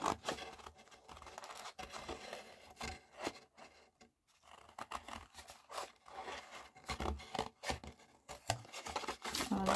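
Scissors snip through paper to trim a junk journal pocket, a run of short close cuts and rustling paper handling with brief pauses, no voices.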